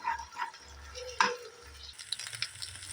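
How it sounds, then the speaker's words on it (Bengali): Two eggs scrambling in a pan, with a faint sizzle under close, intermittent scraping and stirring strokes and a sharp tap of the utensil against the pan. "এই 2টো ডিমের আমি ঝুরি ভাজা করে নেব।"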